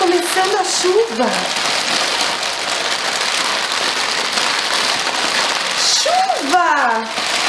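Steady, heavy rain patters and hisses without a break, while voices with rising, sliding inflections speak over it at the start and near the end.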